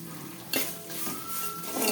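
Slit green chillies fry in hot oil in a pan for coconut rice, a steady close sizzle with a spoon scraping and stirring against the metal, a few clinks rising over the hiss.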